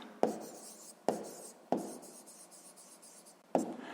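A pen writes an answer by hand on paper, with four sharp taps as it touches down and soft scratching strokes between them, close and alone.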